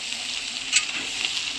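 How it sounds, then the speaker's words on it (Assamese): Vegetables such as pointed gourd, brinjal and cabbage frying in hot oil, giving a steady, close sizzling hiss with a faint crackle and no talking. "চব্জি ভাজি আছে মা"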